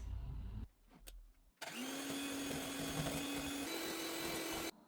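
An electric mixer beats cake batter of eggs, vanilla and sugar, starting after a short pause with a steady, loud whirring drone that holds evenly for about three seconds before cutting off.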